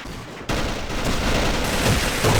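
Sustained automatic gunfire in the shooter game AVA, bursting in abruptly after a brief lull and continuing as a loud, dense rattle of rapid shots, close and without pauses.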